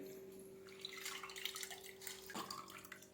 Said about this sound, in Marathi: ही डाळ ह्या चाळणीमध्ये काढून घेणार आहे जेणेकरून ह्यातलं पाणी पूर्ण निघेल